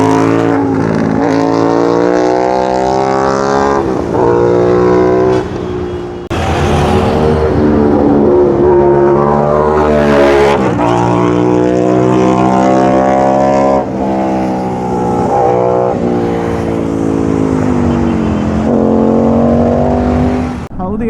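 An Aprilia RS 660 motorcycle with an SC Project full titanium exhaust revs loudly and close by in repeated rising and falling pulses, with brief cuts between blips.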